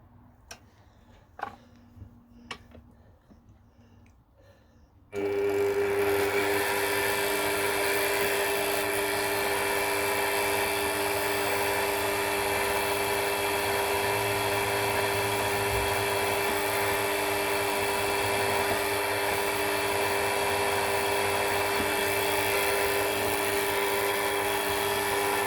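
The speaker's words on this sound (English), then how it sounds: "it's not a very big drill going in here" Small drill boring into metal on a Myford lathe: after a few quiet ticks, a steady loud whine with a machine hum sets in abruptly and runs unbroken for about twenty seconds.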